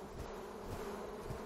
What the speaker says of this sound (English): I'll just shake the bees off.